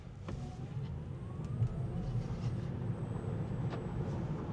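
A rear-wheel-drive Tesla Model 3 accelerating hard from about 20 to 60 mph, with a steady low road and tire roar and a faint rising electric whine heard from inside the cabin, without talk.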